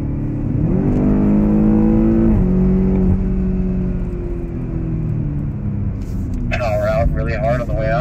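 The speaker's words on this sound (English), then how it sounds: "you floor it and just let the four-wheel drive take you out as hard as you can" A 2015 BMW X6 M with four-wheel drive accelerates hard out of a corner at Circuit of the Americas, its engine droning loud and close inside the cabin with rising and shifting pitch, and a voice talks over it.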